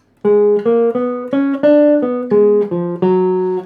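Nine or so distinct piano notes played one after another at a moderate even pace, a short jazz 2-5-1 lick, loud and close with no speech.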